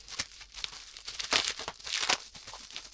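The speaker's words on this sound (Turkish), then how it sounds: "Kitap kargom geldi. Birlikte açalım." A book parcel is torn open at close range, with its plastic packaging crinkling and tearing in irregular bursts for about three seconds. No one speaks.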